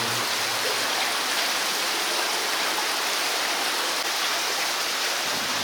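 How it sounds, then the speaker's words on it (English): Continuous rushing water runs and splashes over flowstone inside Nam Talu Cave, Thailand, a steady noisy hiss with no breaks, echoing slightly in the enclosed cave. "There's a flowstone with water running over it"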